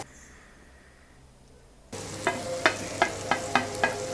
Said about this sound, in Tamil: இப்போ இது எல்லாத்தையும் நல்லா மிக்ஸ் பண்ணி விட்டுக்கோங்க.